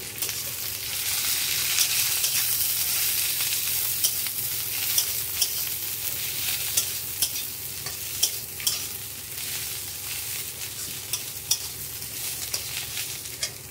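Whole small drumstick leaves frying in oil with red chili, a continuous soft hiss of sizzling broken by light scraping stirs, fairly quiet and without speech.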